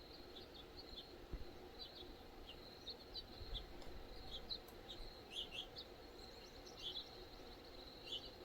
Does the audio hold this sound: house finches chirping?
yes